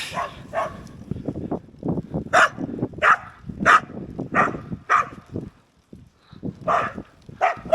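A dog barks repeatedly and agitatedly nearby, sharp yips and whimpers in an irregular rhythm, loud and close, with little else around.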